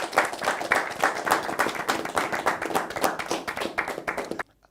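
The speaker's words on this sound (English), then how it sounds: "can you please give yourself a round of applause?" Applause at an Accountancy Challenge Nigeria TV game show, with contestants applauding themselves; brisk, fairly close clapping with distinct individual hand claps, running steadily before cutting off abruptly near the end.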